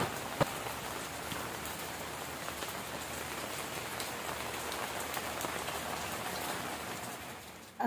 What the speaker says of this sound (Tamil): தூரல் போட்டுட்ருக்கேன் இப்போ.